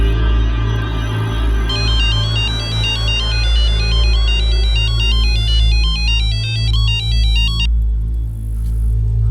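A telephone rings with an electronic ringtone, a warbling repeated tone pattern that starts after a moment and runs for several seconds over a low background hum, with no voices.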